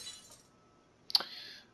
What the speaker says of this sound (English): The sound of glass shattering wrenched through the air as soon as her hold on it loosens.